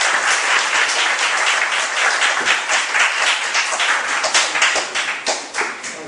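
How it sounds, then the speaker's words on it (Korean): Audience applause welcoming a lecturer to a talk on consumer cooperatives, loud, sustained and dense clapping from a crowd lasting several seconds, with no speech. "큰 박수로 장원봉 선생님 모시겠습니다"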